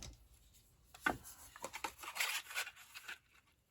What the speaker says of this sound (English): This is probably not the best pair of scissors